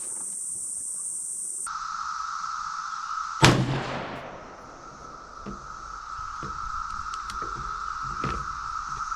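A single sharp rifle shot of a 5.56×45 M855A1 round fired at copper and stainless steel plate, one loud close crack with a decaying ring, surrounded by steady insect-like outdoor hum.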